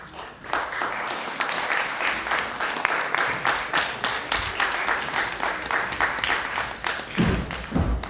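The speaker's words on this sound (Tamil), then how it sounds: "இன்னும் சற்று பலமாக கரகோஷம் வாழ்த்தாக வந்து சேரட்டும்" Audience applause at a Tamil movie launch event in 2003, sustained clapping from a crowd that continues steadily throughout, fairly close and loud, with no speech over it.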